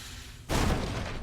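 A barrel explodes in a video game with a sudden broadband burst that starts abruptly, then holds as a dense, loud roar without fading, over a faint hiss beforehand.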